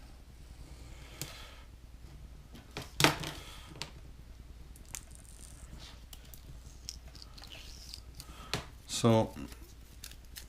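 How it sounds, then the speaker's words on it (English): Vinyl masking sheet from a 1/537 scale Star Trek Enterprise Refit Aztec masking kit being cut, heard as faint scattered snips and crinkles at close range, with someone briefly speaking. "So we'll just cut this vinyl out."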